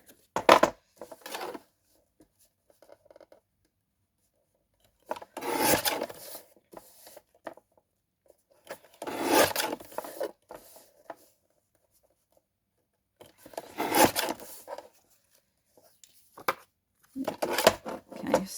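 Cardstock for a small handmade card is trimmed in five separate bursts of dry scraping and rasping. Long quiet gaps separate the bursts, and the sound is close and moderately loud.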